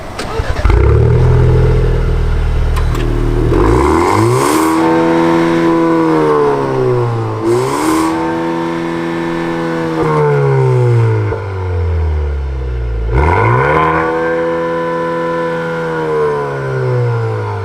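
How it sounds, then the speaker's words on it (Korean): A Maserati Ghibli GT Hybrid's 2.0 four-cylinder turbo petrol mild-hybrid engine revs up repeatedly while driving, its pitch climbing and then dropping with each ZF 8-speed gear change, loud and close. "시동이 걸렸을 때는 엔진 소리가 비교적 큰 편이고요"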